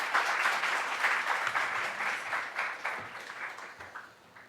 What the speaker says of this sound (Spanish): Les pido nuevamente un aplauso para nuestros invitados